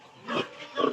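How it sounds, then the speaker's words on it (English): Pigs on a farm grunt in a few short, low bursts close by, with no talking over them. "We also have pigs here behind."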